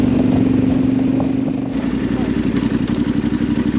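Yamaha Tenere 700 Rally motorcycle ridden on the road, its engine a loud steady drone with rapid throbbing pulses that shift pitch partway through, heard close up over wind noise.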